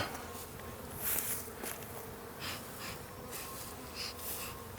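Honeybees buzz from an opened mother hive during nucleus work, a dense, continuous hum with individual bees droning closer at moments, no voices.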